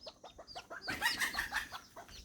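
Bantam chickens on a farm in Chanthaburi, Thailand cluck in a rapid series of short calls, rising into a louder, busier flurry of squawks before settling back to steady clucking.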